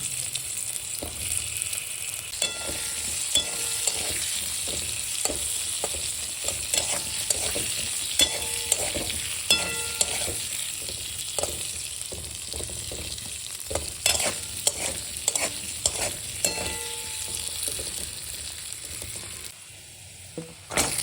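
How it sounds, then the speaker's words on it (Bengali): Steady sizzling of potatoes frying in a pan, with occasional scraping and stirring clatter from a utensil throughout. "প্রথমে আমি আলুগুলোকে দেব তারপর সিমগুলোকে ভাজবো"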